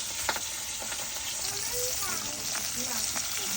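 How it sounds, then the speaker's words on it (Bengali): Rupchanda (pomfret) fish frying in hot oil in a home kitchen, a steady sizzling hiss with faint scattered crackles, close and continuous, with some soft background sounds. "এবার হচ্ছে মাছগুলো ভেজে নেব"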